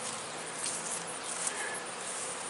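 Honey bees swarm over medium hive frames at the front of a colony split, a close, continuous buzzing hum with a faint clink or two.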